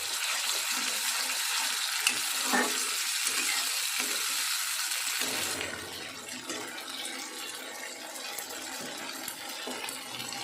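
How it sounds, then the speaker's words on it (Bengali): Cumin seeds, dried red chilli, a bay leaf, asafoetida, and a tomato, ginger, cashew and green chilli paste hit hot oil left from frying potatoes, giving a loud, dense sizzle that calms partway through. "আলু ভেজে রাখা তেলে একটু সাদা জিরে, শুকনো লঙ্কা, একটা তেজপাতা, একটু হিং আর টমেটো, আদা, কাজু, কাঁচা লঙ্কা পেস্ট দিয়ে দিলাম"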